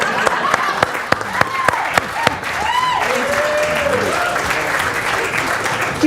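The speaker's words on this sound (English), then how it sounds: "Keep that applause going for your three directors." Applause from an audience at a live stage showcase for three film directors, sustained clapping with a few sharp louder claps early on and overlapping voices calling out throughout.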